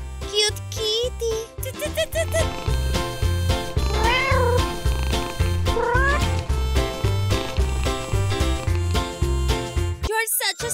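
A small kitten meows repeatedly over a sustained musical backing, bright wavering cries coming in short bursts near the listener, with a jingle and a voice faintly in the mix.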